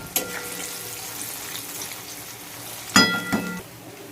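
Palm fritters (taler bora) fry in hot oil with a continuous soft sizzle, broken by a couple of sharp clatters from a utensil close by. No one speaks.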